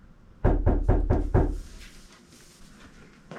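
Five quick, firm knocks on a door in a steady rhythm, close by, followed by quiet room tone.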